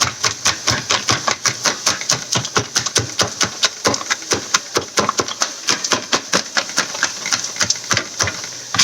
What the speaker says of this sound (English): we're going to chop some up for garnish